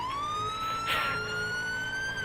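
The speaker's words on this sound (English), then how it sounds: "Let's press the letter L and siren test." An emergency vehicle siren from the Ultimate Driving video game sounds during a siren test, a loud steady wailing tone rising slowly in pitch, with engine rumble beneath.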